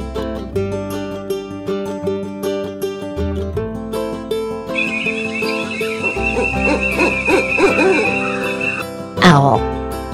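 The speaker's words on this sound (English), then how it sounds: "Owl." An owl hoots repeatedly over a steady backing music track, clear and fairly loud, in a children's animal alphabet lesson.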